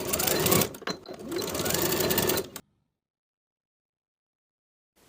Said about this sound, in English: Sew the side edges with a 1/2 inch seam allowance.